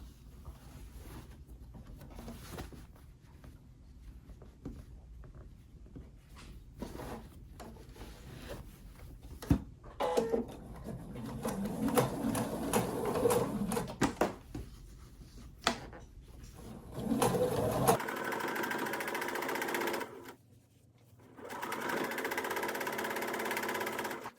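A sewing machine stitches down quilt binding in bursts of steady whirring broken by short pauses and fabric handling, with a louder continuous run near the end.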